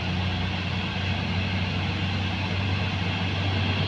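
A dump truck engine drones steadily as the vehicle drives along a road, making a continuous heavy low rumble that stays loud and unbroken throughout.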